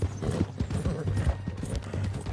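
Horse hooves in the video game Red Dead Redemption 2, a rapid irregular clip-clop of steps close by running through the whole moment, with faint background ambience and no speech.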